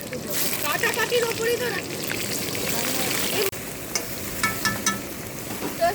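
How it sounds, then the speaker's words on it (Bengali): Mixed winter vegetables, cauliflower among them, fry in a pan for Bengali labra, giving a steady sizzle that runs the whole time with faint voices talking in the background. "শীতের সমস্ত সবজি এবার দিয়ে ভেজে নেবো"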